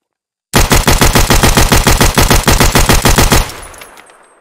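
An FN Five-seveN pistol in Escape from Tarkov firing a rapid, evenly spaced string of about thirty loud shots for three seconds, then stopping abruptly and leaving a ringing echo tail that fades out.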